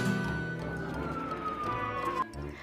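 A film scene where a detective mistakenly sets off an ambulance siren instead of a police siren, a steady wailing tone sliding slowly downward and cutting off near the end, over busy background sound.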